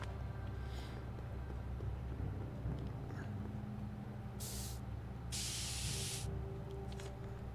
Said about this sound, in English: So basically use the spray paint.